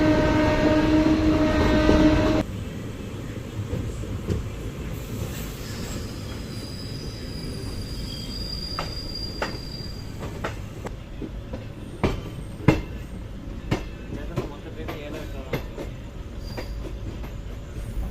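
Erode-Tirunelveli Passenger Express rolling along the track, a loud horn blast at the start giving way to steady running rumble with repeated clicks and wheel squeals, heard from on board.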